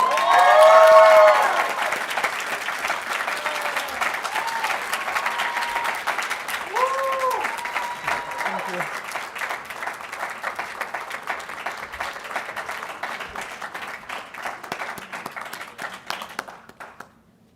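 Audience applause for a student award recipient at a 2022 student leadership awards ceremony, a sustained burst of clapping from a seated crowd that starts loud and tapers off, with brief voices and tones over it early on.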